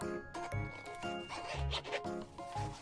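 A zippered case for Sony WH-1000XM5 headphones being unzipped: repeated raspy zipper pulls in short bursts, close and fairly loud, over steady background music.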